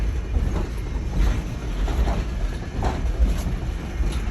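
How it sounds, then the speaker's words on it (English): A Virginia and Truckee Railroad train rolls along and slows to a stop, with rumbling wheels and soft rhythmic clicks heard from on board at a steady moderate level. "Now folks, as the train does pull to a stop here"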